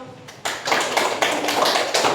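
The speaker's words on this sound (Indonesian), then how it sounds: "Tepuk tangan dulu." Students in a school classroom clap together, a dense run of overlapping hand claps that starts abruptly and stays steady and fairly loud to the end.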